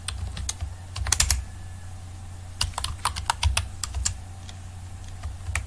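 Computer keyboard being typed on while writing C code, quick bursts of light clicking keystrokes separated by short pauses, close and fairly quiet over a low steady hum.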